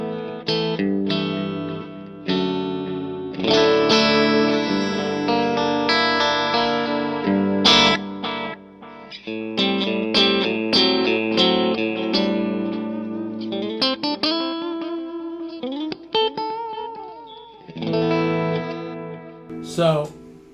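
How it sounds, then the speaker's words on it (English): An electric guitar plays ringing chords and single notes through a Flint reverb and tremolo pedal, heard alone in a close, washy, shimmering effects-laden tone that sustains for about twenty seconds. "Put a little Flint on, a little Flint reverb."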